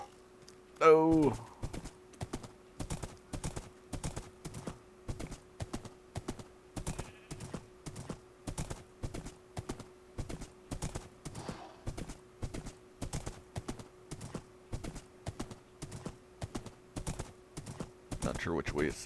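Rapid, regular hoof clip-clops of two skeleton horses in Minecraft trot along steadily for the whole stretch, with a brief low groan near the start and a rustle at the end.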